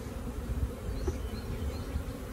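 A honeybee swarm freshly dumped into a hive box hums in a dense, steady buzz, close and moderately loud, with a few individual bees flying past.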